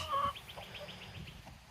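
Chickens cluck softly nearby, a short bright call followed by a string of quiet, repeated clucks against low outdoor noise.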